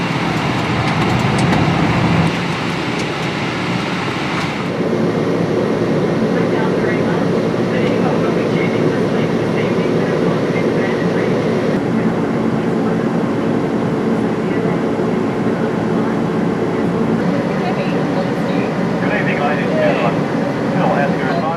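An aircraft on an Antarctica flight takes off and climbs as the landing gear retracts, a steady loud engine roar filling the cabin, with a brief shift in tone partway through and crew voices over it.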